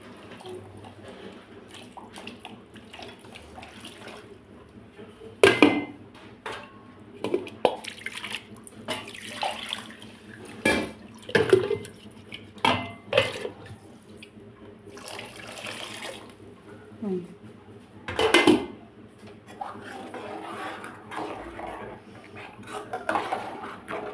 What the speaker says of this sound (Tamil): அதில் மிக்ஸி ஜாரெல்லாம் நல்லா கழுவி ஊற்றிக்கலாம்.